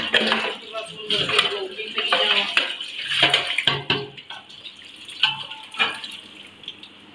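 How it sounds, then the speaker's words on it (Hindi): Steel dishes are washed with soap and water at a home sink, giving intermittent splashes, running water and the clatter and scrape of metal utensils, close and fairly loud in uneven bursts. "बाकी बर्तन जड़े ने वो मैं इस साबण नाल धो दिते ने"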